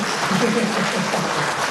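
Audience clapping at a bonus and marketing-plan presentation, a steady dense wash of many hands throughout, fairly loud with some voices mixed in.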